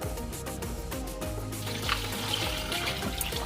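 Water pours steadily onto kikilo seafood being prepared for cooking, a continuous close trickle and splash with a slight rise in brightness partway through.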